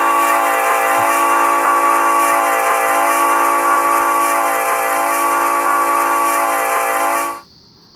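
A looping Trainz train horn holds a loud, rich chord tone steadily for about seven seconds before cutting off abruptly, with no talking.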